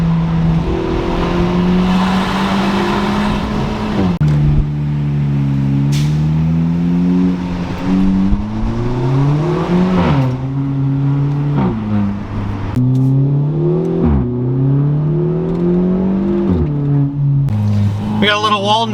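Loud, close engine note from a 2022 Kia Forte GT running with its exhaust removed, rising and falling through repeated revs and gear changes, with a steady rumble throughout and talk heard over it.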